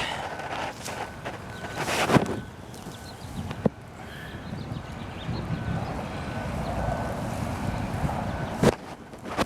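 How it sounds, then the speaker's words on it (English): Gusty wind buffets the microphone, producing a steady low roar with a few sharper knocks and thumps; no one speaks. "It's pretty windy right here."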